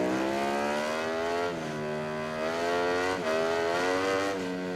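A Ducati racing motorcycle in MotoGP 19 at the Circuit of the Americas screams at high revs, its loud buzzing engine note climbing steadily and dropping briefly at two quick gear shifts.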